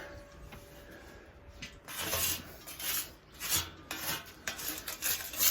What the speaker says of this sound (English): a good way to get the grease that I just showed you off, it's just with that putty knife